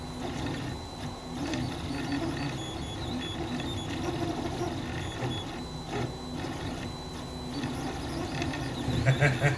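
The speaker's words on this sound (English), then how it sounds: "When the printer goes from left to right," A 3D printer at work on a camera tripod part, its print head traversing left to right, gives a steady, close mechanical whir and ratcheting hum of stepper motors and gears that runs continuously for the whole stretch, slightly louder near the end.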